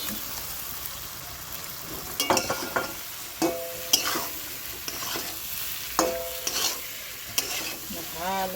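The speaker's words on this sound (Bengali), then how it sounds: "ভালো করে নাড়াচাড়া করে কষিয়ে নিলাম" Potatoes and pointed gourd stir-fry in hot oil for a Bengali posto dish, with a steady sizzle broken by repeated sharp scrapes and clinks of a spatula against the pan, close and fairly loud, with no talking.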